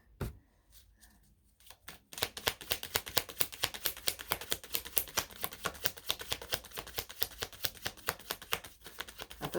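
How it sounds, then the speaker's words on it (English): Rapid, steady riffling of a deck of tarot cards, a dense patter of crisp clicks after a couple of quiet taps at the start. "Two more shuffles."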